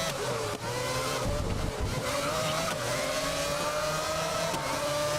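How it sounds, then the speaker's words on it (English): Very loud race car engine in the racing game GRID (2019), revving hard and sustained with rising pitch over road roar, close and dominant with no talking. "So as expected, the engine on this thing is very loud"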